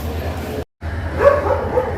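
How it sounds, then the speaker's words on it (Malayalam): Dogs at a railway station platform bark and yip a few times, close and fairly loud, with a brief cut in the middle and station bustle underneath. "മൊത്തം പട്ടികളാണ് ഇവിടെ"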